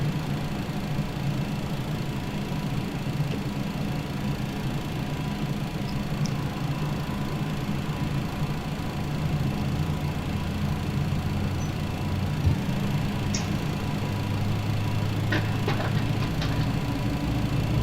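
TFDI MD-11 FedEx freighter's number 3 engine spooling up after fuel is introduced in a flight simulator, a continuous low rumbling drone with a deeper tone building in the last few seconds, no voices.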